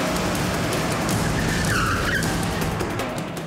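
A car brakes and skids to a halt on a road, a loud, continuous rush of tire noise with a brief rising squeal midway, then easing off.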